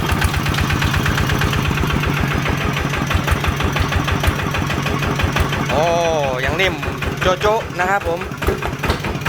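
A 105 cc Thunder motorcycle with an electric starter, its engine idling in a steady, loud, rhythmic putter close by, while someone talks over it.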